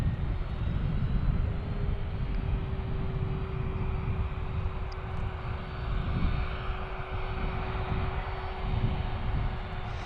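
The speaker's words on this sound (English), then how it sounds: "There she is on a 737. Cincinnati Tower, wind 310 runway 27, clear for takeoff." An Alaska Airlines Boeing 737 takes off from Cincinnati airport on runway 27, its jet engines producing a broad, steady roar with a sustained low rumble and a faint tonal whine, heard from a distance with no talking.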